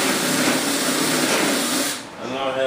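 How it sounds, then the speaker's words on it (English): A power drill bores holes into the parts of a large-scale yellow F-18 model aircraft kit, a steady whirring buzz that runs loud and close for about two seconds before dipping and starting again. "Just gonna start drilling holes."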